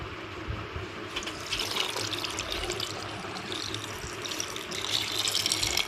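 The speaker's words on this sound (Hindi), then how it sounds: "तो इसमें ना इतना पानी भी ऐड करेंगे" Water pours steadily into a blender jar for plum sharbat, a continuous close splashing, gurgling stream that grows slightly fuller toward the end, with no speech.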